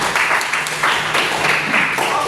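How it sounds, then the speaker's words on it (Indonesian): Classroom applause from students in a maths lesson, a short burst of steady hand clapping that fills the room, loud and close, with no voices over it. "Tepuk tangan itu."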